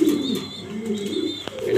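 A pigeon coos close by, a soft repeated warble with low throaty notes.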